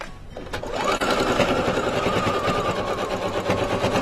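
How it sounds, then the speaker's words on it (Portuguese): A sewing machine runs continuously at steady speed while stitching a fabric table runner, with a close, loud, even mechanical whir and no talking. "Agora vamos passar a costura aqui."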